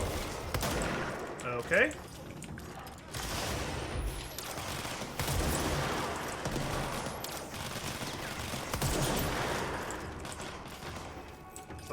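Gunfire in the video game Control during a tense fight: scattered shots and impacts with a sharp burst near two seconds, over a busy rumbling game soundscape while a voice speaks briefly.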